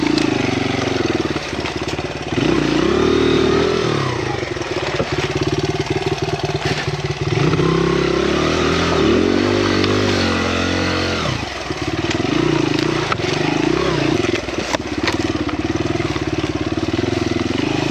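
A Honda XR100R dirt bike ploughs through deep snow, its small engine droning loud and close throughout, rising and falling in repeated revs with no speech.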